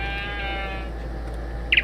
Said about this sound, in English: Be quiet, sheep.